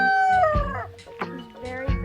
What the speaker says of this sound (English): He's another one of our roosters.